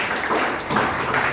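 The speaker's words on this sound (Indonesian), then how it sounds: "beri tepuk tangan bagi Tuhan" A church congregation applauding together, a steady wash of many hands clapping at close range, filling the space evenly for the whole moment.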